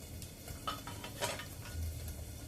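Eggs stirred in a pan with a utensil over a short stretch, giving soft scraping and light clinking strokes against the metal, close and fairly quiet with no talking.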